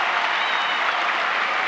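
Sustained, dense applause from a large US Open tennis crowd at a men's final, cheering a break of serve by the American Andy Roddick against Federer, steady and loud throughout without gaps.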